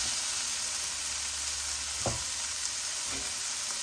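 Tomatoes fry in a pan for a Fiji-style soya chunk curry, a steady close sizzle running throughout, broken by a couple of brief knocks from stirring.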